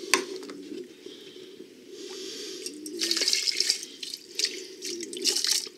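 Rice being rinsed with bottled water, the grains swirled in a pot or bowl, producing close, wet sloshing and light trickling that rises and falls in short bursts, with no talking.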